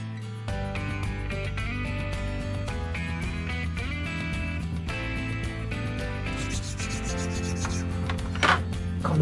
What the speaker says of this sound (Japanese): シリンダーヘッドも、ちょっとこいつは、カスを落としとくか。